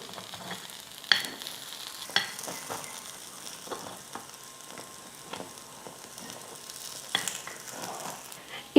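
Paniyaram frying in a pan, a steady close sizzle with a few brief clinks and taps scattered through it, no voices.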